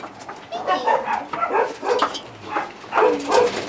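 A dog whimpering happily, repeated high whines and yips close by, mixed with a person talking over them.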